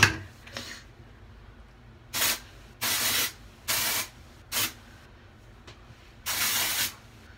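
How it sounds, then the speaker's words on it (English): Several short bursts of brown-tinted dry shampoo aerosol sprayed onto hair, hissing on and off in an uneven rhythm, close by with quiet pauses between them. "we're going to take a section of this one and spray on here"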